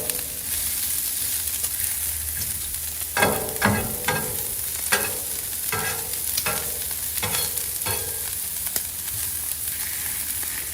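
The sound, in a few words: yellow onions sizzling on Blackstone griddle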